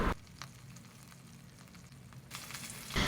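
Tempering of mustard seeds, lentils, green chillies, grated ginger and curry leaves sizzles in hot oil for semiya upma, a steady frying crackle that flares louder at the start and end.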